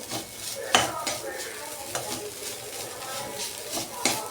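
Beetroot stir-fry with grated coconut being stirred in a pan, with a utensil scraping and clinking against the metal in repeated strokes over a soft background sizzle, close and fairly quiet.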